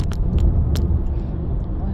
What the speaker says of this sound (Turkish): otobüs geçiyor lan buradan